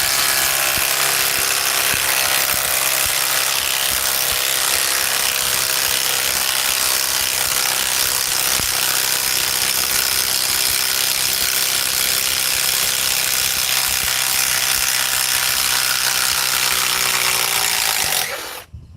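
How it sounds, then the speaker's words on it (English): A DeWalt 860 high-torque impact wrench removes a fastener, its motor and hammering mechanism running loud and continuous for about eighteen seconds before stopping abruptly, with no talking. "this little impact driver from DeWalt, well actually it's just a high torque now."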